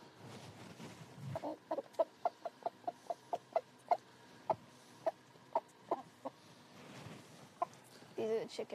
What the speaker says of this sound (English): These are the chickens.